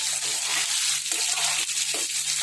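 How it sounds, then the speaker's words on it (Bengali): Spiced curry sizzling and frying in a pan as it is stirred, a dense steady hiss with soft scraping strokes close by and no talking. "এই যে এখন একটু নাড়া দেব"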